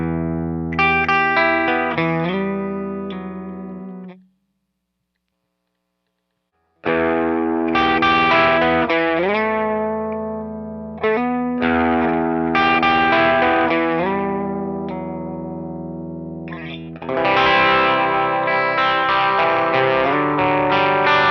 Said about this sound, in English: This seems like it would be a really useful kind of basic, slightly dirty guitar sound.